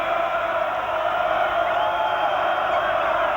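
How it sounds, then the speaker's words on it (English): Packed college basketball arena crowd roaring loudly and steadily for Stanford versus Arizona, a dense continuous wall of cheering with no breaks. "with the crowd going bananas"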